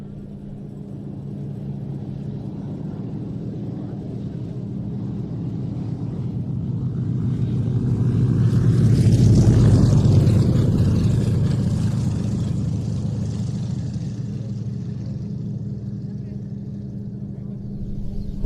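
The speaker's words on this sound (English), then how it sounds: "just in time to catch a really nice low pass by the two Vilgas" Two PZL-104 Wilga light aircraft make a low pass at an airshow, their engine drone swelling to a loud peak midway and fading away, with a commentator talking throughout.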